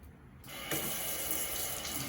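Water gushes from a Delta Touch2O faucet as it is switched on for a toddler's hand washing, a steady close rushing stream starting abruptly after a brief quiet moment.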